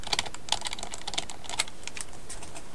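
Rapid computer keyboard key presses during 3D modeling work in Blender edit mode, a steady run of close, crisp clicks with no talk.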